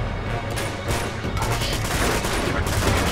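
Sustained gunfire in the Uncharted 2: Among Thieves Remastered video game, a dense, continuous fusillade of overlapping shots and bursts filling the whole stretch at steady, loud intensity with no voices.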